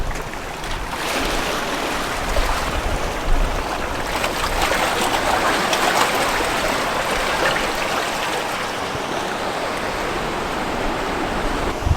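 Steady rushing roar of a waterfall in the Pacific Northwest, a dense constant wash of falling water heard close and fairly loud, with no voices.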